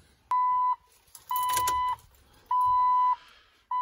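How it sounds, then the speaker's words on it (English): Jeep TJ ignition switched on, setting off a chime of four evenly spaced electronic beeps, each about half a second long, clear and close over a quiet background. "So let's turn on the ignition."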